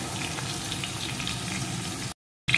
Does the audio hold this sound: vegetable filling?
yes